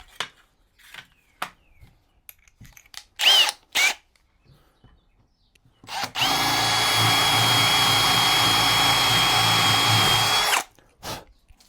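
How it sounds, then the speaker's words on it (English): A DeWalt power drill fitted with a metal bit bores into whisky cask wood, a loud continuous whine lasting about four seconds, preceded by scattered knocks and handling clicks. "Use a wooden drill bit. That's metal drill bit. It's DeWalt"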